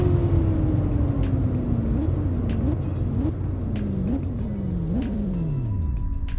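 Car in the Roblox driving game SWFL, a loud engine whine falling in pitch through repeated gear shifts as it slows down under braking, with no speech.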